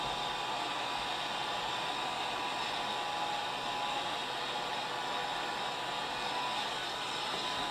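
A heat tool blows over an encaustic wax picture, a steady close whooshing airflow with a constant tone running unbroken throughout.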